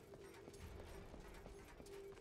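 Horse hooves clip-clopping in the video game Darksiders 2, a faint, steady trotting rhythm of regular hoofbeats with no talk over it.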